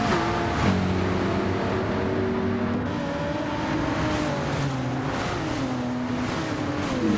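Race car engine in Gran Turismo at the Nürburgring, a loud continuous engine drone with rising and falling revs through gear changes and corners, with other cars audible nearby.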